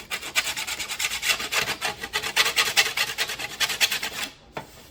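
Deburring the metal edge of a vintage trailer door, heard as rapid, rhythmic rasping strokes, close and steady for about four seconds, then stopping with one last scrape.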